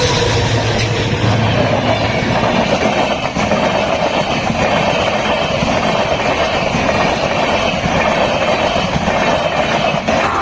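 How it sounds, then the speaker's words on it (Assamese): A train rolls past on a railway line near a village level crossing, a loud, continuous, close rumbling roar that stays dense and unbroken throughout, with no voices. "ট্ৰেইন এইফালে আহি আছে"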